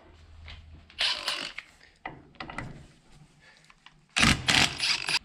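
An impact driver removes 14mm bolts from the front housing of a power steering pump on a Toyota 2H diesel. It fires three loud, rattling hammering bursts close by, with quiet gaps of clinking and handling between them.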